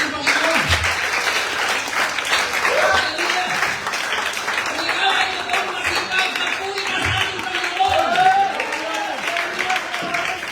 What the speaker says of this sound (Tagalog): Lahat ng masipag ay pumalakpak sa ating Panginoon